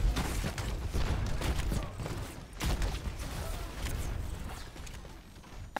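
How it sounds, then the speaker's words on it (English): Junkrat's explosive pot shots in Overwatch, a series of muffled booming impacts amid constant battlefield noise, with chatter underneath the game din. "Junkrat's just gonna take pot shots."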